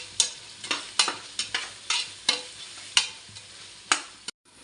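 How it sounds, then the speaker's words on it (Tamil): Onions and salt sautéing for chicken biryani, a close pan sizzle broken by about a dozen sharp spatula scrapes and clanks at an irregular stirring rhythm, then a brief clatter at the end. "வெங்காயம் நம்ம வதக்குறோம் இல்லையா"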